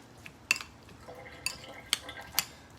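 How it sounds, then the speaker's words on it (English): A spoon stirring a shrimp and salmon taco mixture in a bowl, with four sharp clinks against the side spaced by softer wet scraping, close and fairly quiet. "let's mix it all together"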